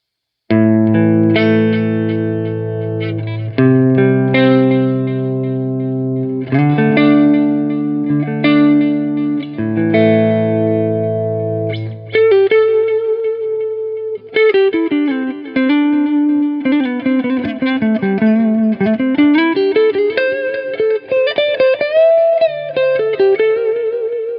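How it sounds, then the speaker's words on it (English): A clean electric guitar on the neck pickup, through a mini amp head, plays chords and then a single-note melody, each note trailing into echoing delay repeats and a wash of reverb. "turn on some delay and reverb and see how that sounds"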